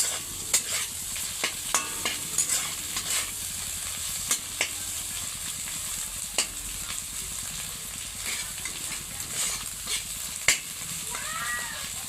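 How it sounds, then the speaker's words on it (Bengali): Egg and potato are stirred together in a hot pan, the food sizzling steadily under a series of sharp scraping and clinking strokes from the utensil, close and without talk. "এখন আন্ডা আর আলু একসাথে মিক্সড করে দেবো"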